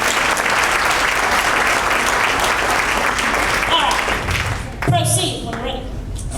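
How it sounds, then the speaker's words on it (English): Audience applauding at a mayoral candidate forum in Hoover, a dense, loud, sustained clapping from a crowd that fades near the end as a voice begins speaking. "Give them a round of applause."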